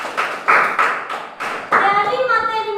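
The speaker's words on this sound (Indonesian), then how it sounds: "Ya, bagus, tepuk tangan" Students in a classroom lesson clap together in short bursts, several rounds of brisk hand claps ringing close and loud, with a teacher's voice talking alongside.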